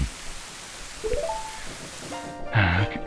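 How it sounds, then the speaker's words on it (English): Steady rain in Zelda: Ocarina of Time, a soft hiss running continuously beneath rising tonal game music and effects, with a brighter musical burst near the end. "It's still raining."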